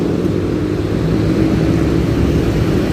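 MAN double-decker bus engine passing at night under a flyover, a loud, continuous low rumble with broad traffic noise and no voices.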